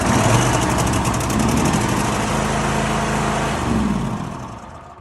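Engine of a Cub Cadet zero turn mower running after a carburetor replacement, loud and close, holding a steady drone with slight pitch shifts before fading toward the end.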